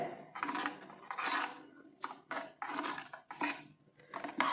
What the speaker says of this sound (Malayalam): വെള്ളവും കൂടി ഒഴിച്ചിട്ട് നന്നായിട്ടൊന്ന് നമുക്ക് മിക്സ് ചെയ്തെടുക്കാവേ